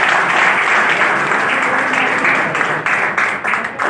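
Loud, dense clapping from a business seminar crowd, sustained and even at first, then thinning toward the end into a few separate, distinct claps.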